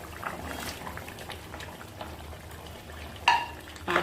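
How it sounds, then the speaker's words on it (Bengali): Fish curry with cauliflower and potato boils in a pot, giving a soft, steady bubbling under faint stirring, with a couple of brief metallic clinks near the end and no speech. "জলটা ফুটে উঠেছে, এবার উপর থেকে আমরা মাছটা দিয়ে দেব।"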